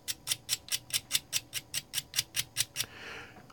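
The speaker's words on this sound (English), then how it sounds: "I'm just going to shave some off here." An artist's charcoal pencil shaved with a blade, about a dozen crisp, evenly paced scraping strokes, close and fairly quiet, ending in a softer rustle.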